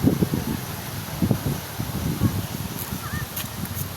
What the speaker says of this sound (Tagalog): Pasensya na kayo guys, masyadong malakas yung hangin.